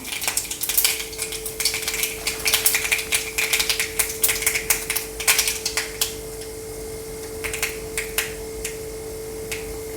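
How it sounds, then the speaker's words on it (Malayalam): Mustard seeds pop in hot oil in a rapid, crackling burst of sharp snaps that thins out to sparse isolated pops, heard close over a faint steady hiss. "കടുക് എല്ലാം പൊട്ടട്ടെ"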